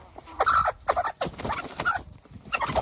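A large, fat, active laying hen clucks and calls in a series of close, uneven bursts, with no speech over it.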